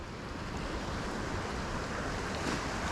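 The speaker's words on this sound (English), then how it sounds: "Oh, look at this water flow." Water flows outdoors in a blizzard, heard as a dense, continuous, roaring wash close to the microphone, mixed with wind noise and no talking.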